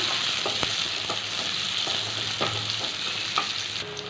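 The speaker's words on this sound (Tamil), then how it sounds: "நம்ம கட் பண்ணி வச்சுருக்க ஆனியனை போட்டுக்கோங்க" Chopped onions frying in hot oil until golden brown, a steady, close sizzle broken by several sharp spatula scrapes and knocks against the pan.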